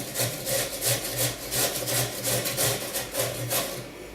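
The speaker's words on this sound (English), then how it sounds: "So you just grate away." A slightly green pumpkin is grated by hand for tikvenik in quick, even rasping strokes, about three per second, close and steady with no talk.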